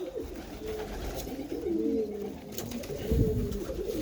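Pigeons coo in low, throaty repeated phrases close by, with a brief louder burst near the end, on a bank of the Bug river, unaccompanied by talk.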